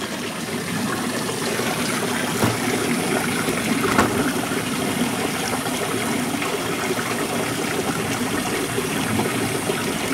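Water runs steadily through a small tributary channel of a sand-bed hydrodynamic river model, a continuous close trickling wash with no pauses and no voices.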